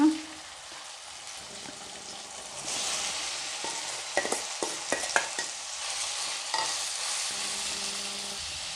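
Radish tossed into softened cooked tomatoes in a pan sizzles steadily, with a burst of spatula scrapes and clacks in the middle as it is stirred, then a quieter simmering hiss.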